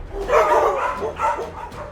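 A pack of stray dogs barks and yips excitedly in overlapping bursts, fairly close and loud, with no talking, in a cartoon.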